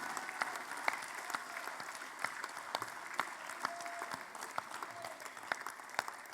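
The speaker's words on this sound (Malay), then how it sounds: "berdiri dan memberikan tepukan gemuruh sebagai tanda kesetiaan buat Yang Berbahagia Datuk Dr. Ashraf Wajidi." A standing crowd gives sustained applause in honour of Datuk Dr. Ashraf Wajidi at a youth wing assembly, a steady wash of distant clapping with a few sharper claps standing out.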